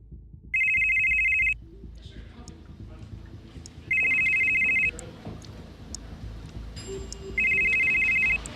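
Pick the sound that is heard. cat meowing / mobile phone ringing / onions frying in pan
mobile phone ringing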